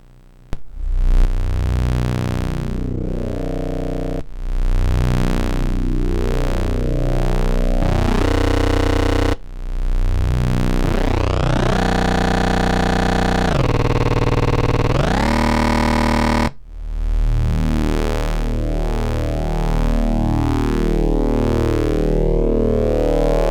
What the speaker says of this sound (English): I will scrub the buffer with a sine wave instead.